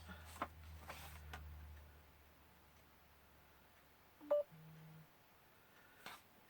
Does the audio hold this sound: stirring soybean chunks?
no